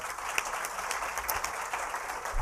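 An audience at a Women-Owned Business Day event in the state capitol applauds, a steady, fairly faint wash of many hands clapping that holds evenly throughout without any voices over it.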